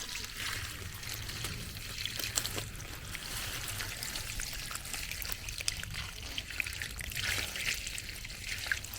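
Water trickles steadily and faintly over oyster mushrooms growing on a dead mango tree log, a soft continuous splashing hiss with no pauses.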